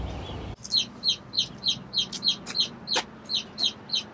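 Chickens on a farm clucking in a quick, regular series of short, close calls, about a dozen in a row after a brief rush of noise at the start, with a low steady hum beneath.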